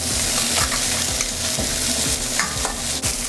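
Thin salmon pieces searing in a hot pan, a loud, dense sizzle with light scraping and stirring knocks recurring through it, close up and continuous.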